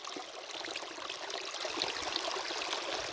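Clear water from a dam spillway rushes and splashes steadily into a river, a continuous broadband flow heard alone at moderate distance.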